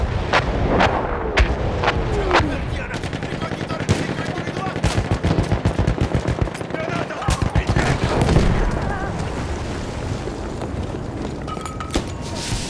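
Battlefield V artillery strike in a game match: a loud barrage of sharp explosions and gunfire cracks, dense in the first half and thinning later, with rumbling booms under steady battle noise.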